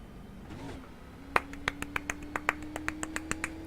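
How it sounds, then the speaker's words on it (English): A slow golf clap of about a dozen light, evenly spaced claps, close and crisp over a low steady hum, following a brief murmur. "Golf clap for Ed DeBoer."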